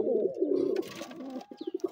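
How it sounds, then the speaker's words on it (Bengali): Bombay and local breed pigeons coo in low, throaty rolling calls, followed by a quick run of short pulsed coos near the end. "এখানে আমার হলুদ বোম্বাই কবুতরটা সাদা দেশি কবুতরটা ডাকতেছে, খুবই চমৎকার।"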